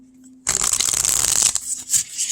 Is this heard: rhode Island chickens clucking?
no